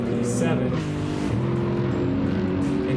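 Race cars in Gran Turismo 7 at Suzuka taking the final chicane, a loud steady engine drone with shifting pitch and a brief tire squeal, under continuous race commentary.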